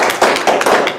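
Audience clapping after a speaker's introduction at a talk, a dense patter of hand claps at close range, steady and fairly loud with no voices over it.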